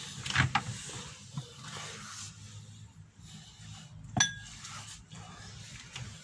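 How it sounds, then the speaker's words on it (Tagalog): A drinking glass is picked up and clinks sharply a couple of times in a home kitchen, the first contacts near the start and one louder ring later, over low background noise. "kukuha tayo ng baso."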